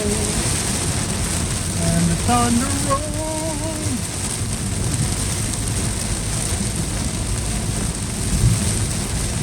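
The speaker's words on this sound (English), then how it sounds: "And the thunder rolls." Thunder rumbling low and drawn out through heavy rain during a massive thunderstorm on Interstate 75 in Tampa, heard from inside a moving car under a constant wash of rain and road noise, with a person briefly talking.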